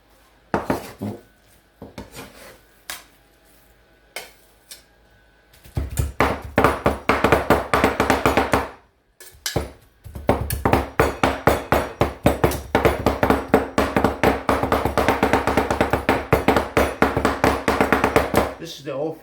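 Shrimp chopped by hand with a sharp knife on a wooden board for shrimp toast. Scattered taps at first, then long runs of fast, close, rhythmic knife strikes, broken by a brief pause partway through.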